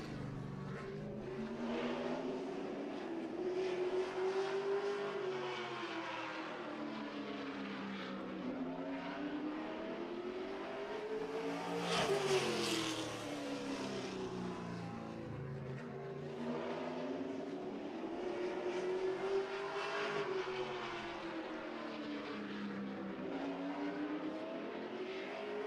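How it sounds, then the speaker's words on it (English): A race car running three qualifying laps on an oval track, engine note rising and falling in a repeating pattern as it circles, with one loud close pass near the middle, steady throughout with no commentary. "Coley out of Sun Prairie, ready for his 3 laps of qualifying"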